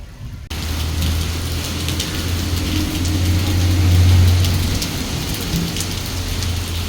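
Rain falls steadily in a dense, rushing patter, with a low rumbling undertone that swells midway and faint clicking mixed in.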